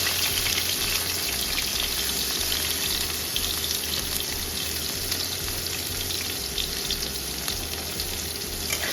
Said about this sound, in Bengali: এবারে পেঁয়াজ আর লঙ্কাটাকে খুব ভালোভাবে ভেজে নিতে হবে